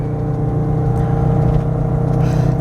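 A 1996 Winnebago Volkswagen Class B camper's V6 engine hums steadily under load while driving, a close, continuous drone with a faint rising whir and no speech.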